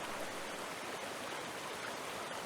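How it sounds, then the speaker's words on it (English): A waterfall gives off a steady, even rush of falling water, faint and unbroken from start to finish. "He turned toward a sound of water falling. Then he saw a waterfall."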